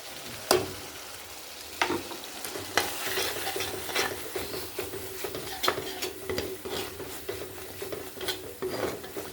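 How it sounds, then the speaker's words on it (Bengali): Spice masala frying with a little water in a pan for a cauliflower, taro, potato and egg curry: steady sizzling under repeated scraping stir strokes and occasional clinks of the spoon on the pan, close and fairly loud, no talking. "এইটা দিয়ে মশলাটা ভালো করে কষে নেবো।"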